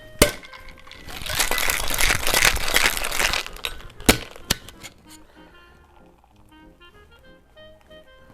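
Ice rattles and crunches inside a cocktail shaker in a burst of vigorous shaking while mixing a Hurricane cocktail, followed by a couple of sharp knocks and quieter clinks.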